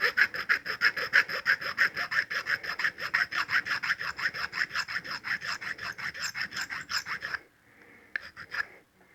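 The top of a nail is filed down with a series of quick, even rasping strokes, about thirty in a steady rhythm, close up. The strokes then stop, leaving a few faint scrapes.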